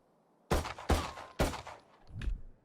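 Gunfire from the video game Valorant shooting through a bench: three sharp, loud shots in quick succession followed by a softer, duller fourth burst, with no talking.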